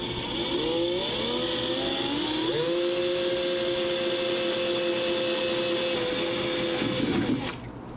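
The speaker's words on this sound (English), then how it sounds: "So now we're going to drill a hole" A power drill whines steadily while boring a hole for undercabinet lights, rising in pitch as it spins up, then holding a sustained loud tone for several seconds before cutting off.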